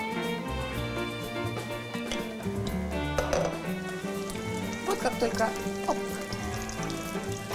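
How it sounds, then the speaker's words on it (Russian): Cheese pancake batter with parsley sizzles and crackles steadily in hot oil in a frying pan, a constant frying hiss close by, while a person speaks briefly over it. "выкладываем небольшие вот такие блинчики на сковороду"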